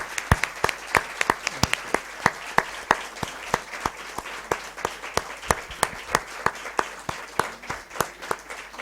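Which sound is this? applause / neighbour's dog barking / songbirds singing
applause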